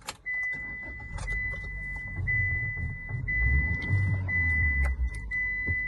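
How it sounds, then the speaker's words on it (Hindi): A car engine cranks and starts, then settles into a steady low idle with a faint high whine and light clicks, close and alone with no talk. "तो गाड़ी को स्टार्ट करता हूं मैंने"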